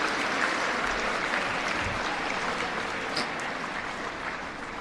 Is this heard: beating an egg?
no